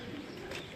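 Pigeons coo on a rooftop, a faint, brief, soft low cooing heard from a distance in a quiet moment.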